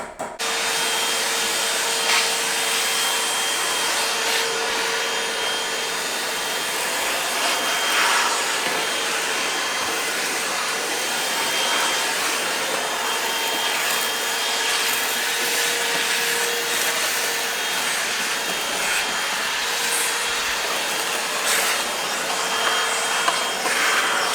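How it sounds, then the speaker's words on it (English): Shop vacuum drawing up dust and small debris from a prepped window opening during replacement with a vinyl double-hung unit, a steady loud whine and rushing hiss running without break, with no talk. "we're going to go ahead and vacuum all the dust and what little bit of debris there is on there"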